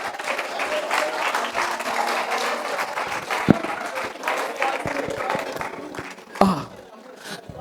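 Church congregation applauding the Lord during a French-language sermon, a sustained wash of clapping and cheering from a large crowd with a couple of sharp accents, fairly loud and continuous.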